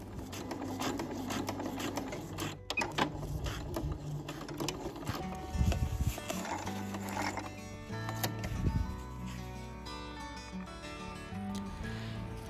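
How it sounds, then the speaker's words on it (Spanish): A sewing machine stitches the fabric tunnels of a foldable shopping bag, a steady mechanical whir and needle rattle running continuously up close, with brief pauses and handling rustles in between. "Los márgenes de costura de los túneles los doblo de esta manera y voy a coser por aquí y por este otro lado."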